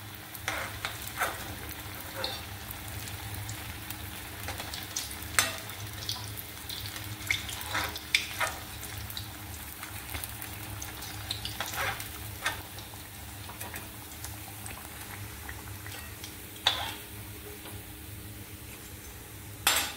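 Sabudana vada, crispy sago fritters, crackle in frying oil with a fairly quiet, continuous sizzle broken by sharp utensil clinks and scrapes at irregular moments.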